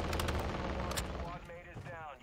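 Loud bursts of gunfire from the video game DMZ, several sharp shots early on, fading into a busier mix with faint talk underneath.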